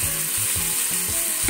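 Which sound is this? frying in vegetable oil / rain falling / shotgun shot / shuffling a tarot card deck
frying in vegetable oil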